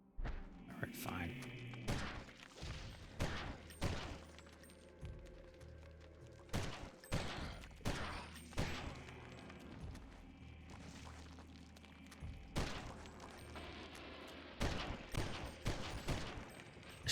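Gunfire in the video game Eternal Darkness: Sanity's Requiem comes as repeated sharp shots and bursts spaced across the stretch, with thuds between them, and someone talks over the game.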